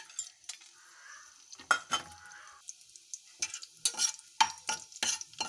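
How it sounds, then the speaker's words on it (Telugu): Cumin seeds fry in hot oil in a pan, with a soft sizzle under sharp clinks and scrapes of a spoon against the cookware. "ఆయిల్ బాగా వీటెక్కింది. జీలకర్ర వేసాను."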